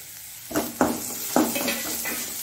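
Ginger and chopped garlic hit hot oil in a pan for a Mangalore-style lobia seed curry, with three sharp sizzling bursts as pieces are added and stirred, then a softer steady fry.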